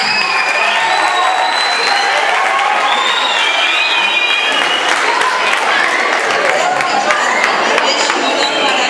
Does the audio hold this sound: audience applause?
yes